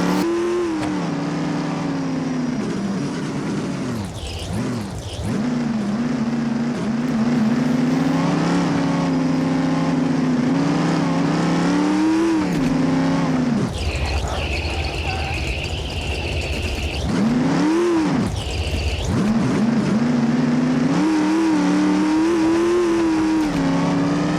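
Engine of a modded vehicle driving on roads in the BeamNG driving game, a loud steady drone that rises and falls through the gears, briefly cutting out twice, with no talking.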